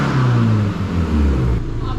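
A Subaru STi engine fitted with a big turbo and a new exhaust revs loudly and close, its deep droning note rising and falling steadily, with a voice briefly audible under the engine.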